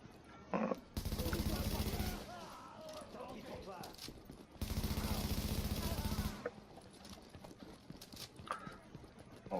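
Assault rifle fire in the Dark Zone of a video game, two long loud sustained bursts separated by quieter stretches, with someone talking in between and over the gaps.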